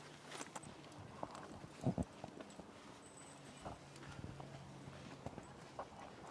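Faint horse hooves clip-clopping at a slow walk, irregular soft thuds over a quiet outdoor background.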